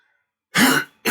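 A single sharp throat clearing close to the microphone, a short rough burst followed by the start of another, with no talking.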